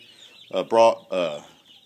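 A few short chicken clucks up close, two or three quick vocal bursts against a quiet background.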